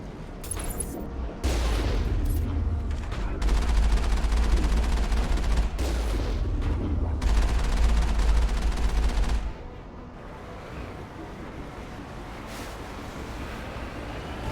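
Rapid gunfire from the PC game Mass Effect hammers out in loud sustained bursts with short breaks between them, then gives way to quieter ambient rumble for the last few seconds.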